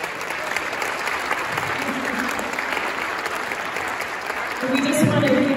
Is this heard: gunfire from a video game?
no